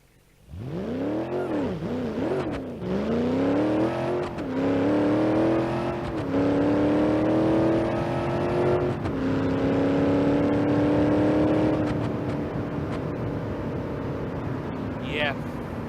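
A car engine in the driving game BeamNG.Drive revs up on nitrous boost through several rising gear pulls, each a climbing whine that drops and climbs again, loud and close, building to a long sustained roar.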